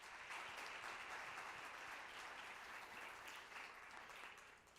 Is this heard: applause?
yes